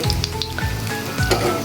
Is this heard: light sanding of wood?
no